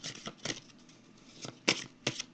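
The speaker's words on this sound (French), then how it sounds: "Je vais juste piger une carte ici pour terminer." Oracle cards being handled and drawn from a deck, giving a few soft, quick papery riffles and slides in a quiet room, close and faint with short pauses between.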